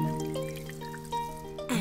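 Water trickles and pours gently onto a plant in a children's cartoon, a soft liquid splash under a sustained musical tone, with a brighter splash near the end.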